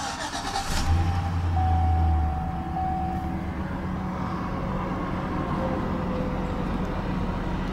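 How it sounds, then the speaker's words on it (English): A 2004 GMC Sierra 1500 SLE pickup truck engine cranks briefly and catches, revving up loudly before settling into a steady idle rumble. "So now we'll go ahead and start the engine."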